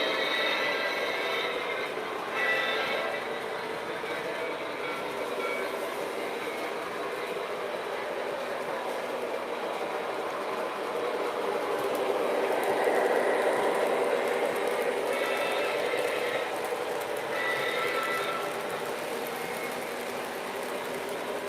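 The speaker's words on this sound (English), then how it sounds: "I'm going to start wrapping down the train running here" A steady mechanical rumble and whir of a small train running continuously along a track, fairly close, with slight swells in loudness and no talking.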